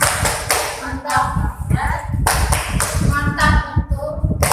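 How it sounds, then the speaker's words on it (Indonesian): A classroom of primary school pupils gives a rhythmic 'tepuk mantap' cheer clap, with rapid hand claps mixed with children's voices and a fair amount of room noise, fairly loud and close throughout. "Silahkan berikan tepuk mantap untuk Putri Safira"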